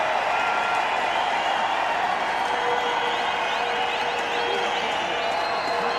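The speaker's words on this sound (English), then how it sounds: "Well greeted by the crowd here." A cricket crowd at a 2010 Australia vs India Test match applauds a boundary four. Dense, steady clapping and cheering fill the whole stretch at an even, fairly loud level.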